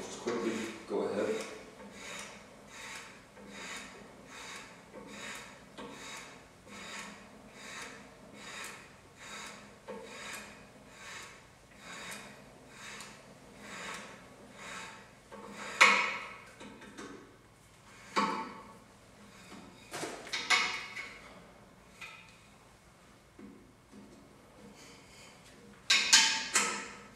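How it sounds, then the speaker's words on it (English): Hand tap cutting threads into an aluminum cylinder head for a stud install, a steady series of rhythmic rasping scrapes at each turn, followed by a few louder, sharper scrapes and clunks near the end, close up. "Right now it's cutting threads into the aluminum."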